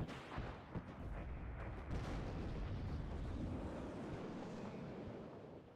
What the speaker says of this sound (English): That's the 120mm mortars.